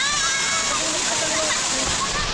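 Water splashes and rushes steadily at Awao Falls in Monkayo, Davao de Oro, a loud, continuous waterfall roar with splattering throughout, while a voice speaks faintly underneath.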